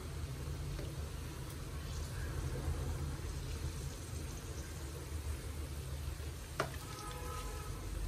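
Vegetable cutlets frying in a pan of oil, a steady soft sizzle running throughout with a brief sharp crackle near the end, no voices.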